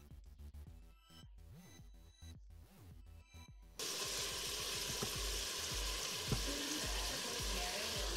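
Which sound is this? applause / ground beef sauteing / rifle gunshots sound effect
ground beef sauteing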